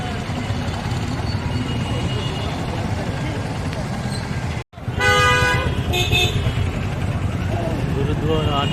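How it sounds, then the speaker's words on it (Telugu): A bus rumbles out of Bidar bus stand, its engine droning loudly before a brief break, after which repeated horn blasts from nearby vehicles ring out over the traffic noise. "సో బీదర్ బస్ స్టాండ్ నుంచి బస్సు అయితే కదిలిందండి"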